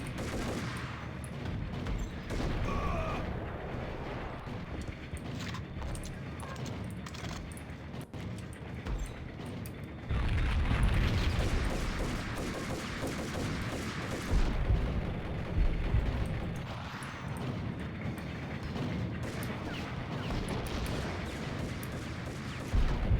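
Max Payne video game combat with a grenade launcher, full of booming explosions and dense gunfire in sustained loud bursts that swell around the middle and stay heavy to the end.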